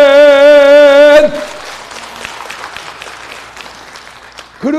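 A sung note ends and a church revival congregation breaks into applause, a burst of clapping that quickly thins to scattered claps and fades out, close and fairly loud.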